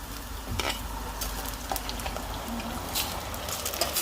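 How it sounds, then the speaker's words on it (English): Tomatoes being mixed into a sizzling pan of spicy aubergine and potato, aloo baingan, a continuous frying hiss with soft scraping and stirring knocks throughout. "just add the tomatoes and mix them in"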